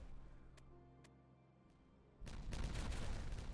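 Buildings blow up in Timberborn: after a few light ticks, a sudden loud burst of crackling, rumbling explosions erupts and keeps roaring densely to the end.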